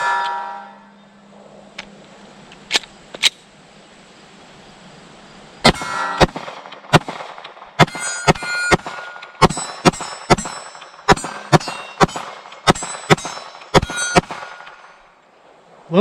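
A Palmetto State Armory Dagger pistol with an upgraded trigger fires rapid pairs of shots at steel targets outdoors, sharp loud cracks with ringing metallic hits, in a rhythmic string after a few earlier isolated shots.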